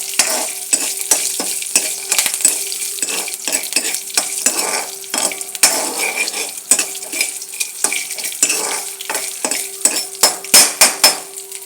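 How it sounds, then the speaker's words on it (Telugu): Curry-leaf and green-chili tempering crackles steadily in hot oil for poha pulihora, with repeated metal clinks of a spoon stirring against the pan and a constant low hum underneath, growing more clattery toward the end. "చూసారా, చక్కగా వేగిన పోపు."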